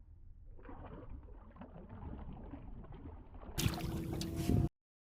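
A boat motor drones steadily nearby on a lake with wind buffeting the microphone, then a louder roaring burst before it cuts off abruptly.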